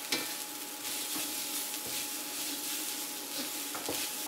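White rice and chopped green onions stirred in a Nuwave Precision induction wok make a steady sizzle with scraping spatula strokes and light clinks from the pan, close and continuous.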